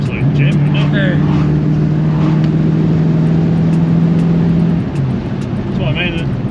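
A 1967 Ford GT Falcon driving, its engine droning steadily from inside the car with a low hum and road noise, while people talk over it.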